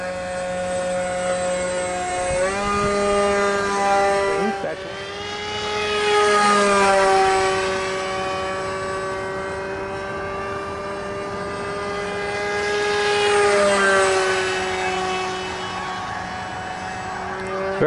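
An RCPowers F35 v3 RC model jet flies after takeoff, its electric motor whining loud and steady with rising and falling pitch as it makes repeated passes close by.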